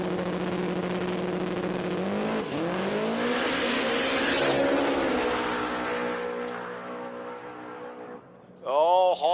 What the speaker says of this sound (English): That car has gone 7 seconds in the quarter mile. It was breathing pretty heavy.